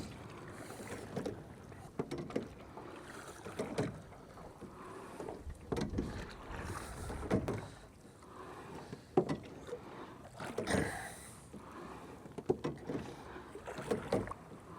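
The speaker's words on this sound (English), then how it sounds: "it's just raising the oars a little bit to get the oars into the water" Oars of a rowing boat stroke through the water in a slow, regular rhythm, each pull a soft splash and knock, with gentle wind noise on the microphone between strokes.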